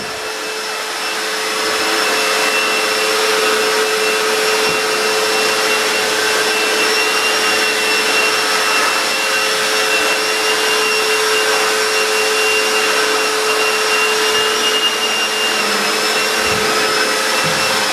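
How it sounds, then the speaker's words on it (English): Einhell wet and dry vacuum with its power head spinning, a steady loud whirring motor roar with a high whine that ramps up and holds continuously, close by with no talking. "you can really hear that power head spinning now"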